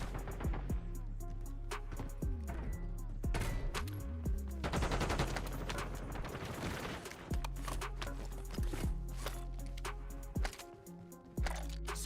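Rapid bursts of video game gunfire, with dense automatic fire and single shots repeating loudly over a steady low engine drone, close and continuous throughout.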